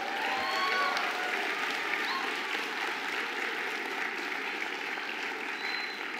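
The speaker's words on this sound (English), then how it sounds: "Face your supporters, friends and family, and you give them a big round of applause." Graduates on their feet at a university graduation ceremony give their supporters, friends and family a big round of applause, a dense, steady clapping from a large hall crowd that carries on for several seconds.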